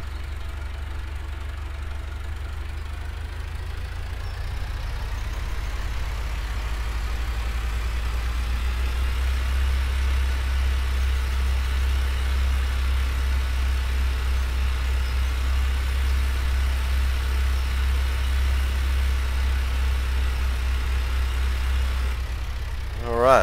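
A small farm tractor engine idles and runs steadily nearby for the whole stretch, a constant low knocking drone with a brief louder bump at the very end, no other sounds over it.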